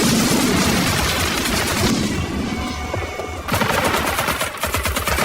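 Gunfire in a Vietnam war film scene, with dense bursts of close machine-gun fire and crashing shots, a brief lull, then renewed rapid firing.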